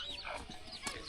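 A chicken clucking in a remote mountain village, a few soft, irregular clucks over constant ambient noise, fairly faint and distant, no talking.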